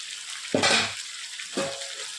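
Meat fried and stirred in hot oil in a pan during slow cooking, a steady close sizzle broken by two loud bursts of crackling as the pieces are turned.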